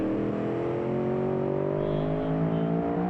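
A Tesla Cybertruck in the BeamNG.drive driving game gives a loud, steady engine drone that rises gently in pitch and continues without a break, with no talk over it.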